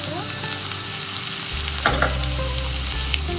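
A Kerala-style inji puli ginger curry mixture frying in a pan with chili powder added, giving a steady close sizzle and a few stirring scrapes, with no voices.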